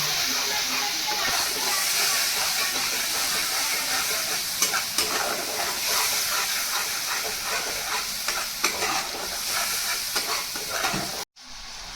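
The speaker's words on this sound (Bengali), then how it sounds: "গ্যাসটাকে কমিয়ে কমিয়ে ভাজি।" Pointed gourd frying over low gas after a splash of water, a close, steady sizzle and hiss with occasional stirring scrapes, running continuously before cutting off briefly near the end.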